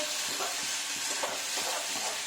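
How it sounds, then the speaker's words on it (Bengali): Spices for dal makhani being stirred and fried in oil produce a steady close sizzle with faint periodic scraping strokes of a spatula. "যতক্ষণ না এগুলোর কাঁচা গন্ধ চলে যায় ততক্ষণ একটু নাড়িয়ে নেব"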